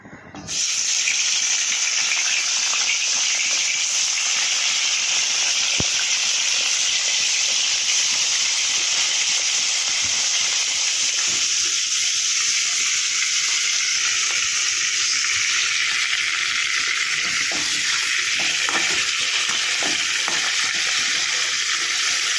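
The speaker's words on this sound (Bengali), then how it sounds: "চলো এবার মাছগুলো ভেজে নিই" Bhetki fish pieces frying in a pan, a loud, even sizzle that rises sharply at the start and carries on steadily throughout, with a few faint clicks and no voices.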